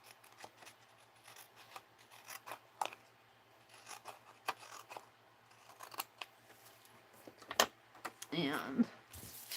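Scissors snip and rustle through paper being cut for a mixed-media collage, in a run of small close crisp cuts with light handling noise and a short voiced sound near the end.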